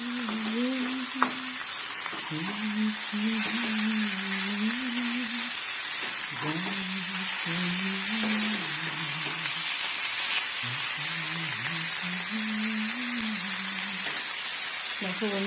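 Steady sizzling of food frying in a pan, with a person talking over it throughout.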